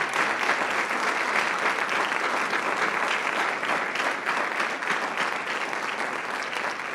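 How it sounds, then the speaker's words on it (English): A steady round of applause from an audience at a spring jazz band concert, full and continuous without letting up, and no voices over it. "let's give them a round of applause"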